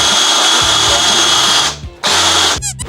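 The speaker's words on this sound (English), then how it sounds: "Pull the drill trigger." A power drill running forward while trying to keep an old fridge door on its hinges, a loud steady whine that cuts out briefly near the end, then restarts and stops again.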